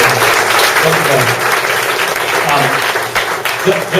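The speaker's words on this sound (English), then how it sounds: "A round of applause, please." Audience round of applause at a Boston technology startup showcase, a loud continuous wash of clapping lasting the whole clip, with murmuring voices in the crowd beneath it.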